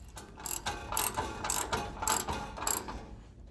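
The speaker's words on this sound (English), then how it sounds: "The bumper bolts on easy using factory braces." A ratchet clicks in quick repeated bursts while bolting the bumper onto a 1967 Chevy C10 pickup with factory braces, close and fairly quiet, with no talk.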